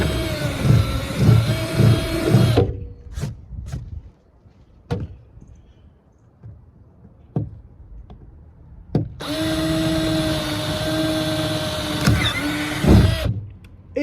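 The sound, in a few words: electric drill drilling holes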